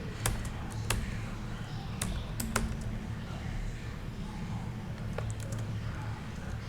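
Computer keyboard typing in sharp, scattered clicks and short bursts over a steady low hum, with no speech.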